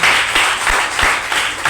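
Church congregation clapping together in a steady, rhythmic beat, with sharp claps about every third of a second. The clapping is moderately loud and close, with no speech over it.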